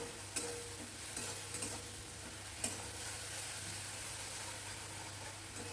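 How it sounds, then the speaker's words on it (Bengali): Ground cumin, turmeric and coriander with ginger paste and water frying in a pan, giving a steady low sizzle with a couple of sharp stirring clinks, heard alone without talk. "তাই মশলাটা দিয়ে দিলাম জিরে গুঁড়ো হলুদ গুঁড়ো ধনে গুঁড়ো আদা বাটা সব একসঙ্গে করে রেখেছিলাম একটা বাটিতে জল দিয়ে"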